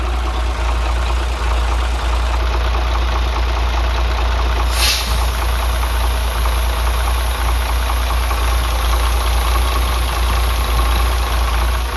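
An Isuzu Giga FVZ 6x4 truck diesel engine idles loud and close with its oil cap open, a steady low rumble with a faint clatter, unchanging throughout.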